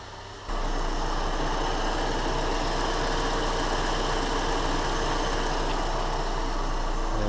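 A Renault Laguna 2 with the 2.0 L 16V F4RT turbo engine idles steadily and close by after starting up, a continuous even hum with no talk over it.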